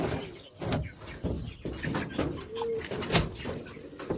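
Pigeons coo softly in a pigeon loft, broken up by bumps and knocks from a board being handled nearby.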